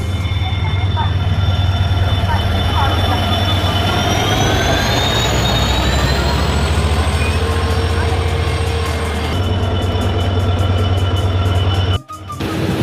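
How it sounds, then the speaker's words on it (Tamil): A train pulls into platform 3 at Thanjavur station with a loud, constant rumble of engine and wheels and a high whine running throughout, then a sudden sharp break near the end. "அது இப்போ வந்து பிளாட்ஃபார்ம் நம்பர் 3க்கு உள்ளே வந்துகிட்டு இருக்கு."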